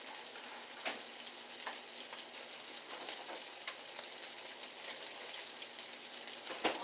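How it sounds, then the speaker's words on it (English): Chopped onions sizzle and crackle steadily in a hot frying pan while a frugal dinner cooks, with a continuous close hiss and scattered sharp pops and spatters, no voices. "time to throw in these onions. Give it a delicious sizzle."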